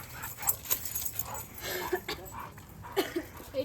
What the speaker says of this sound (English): Dogs are helping with the unpacking.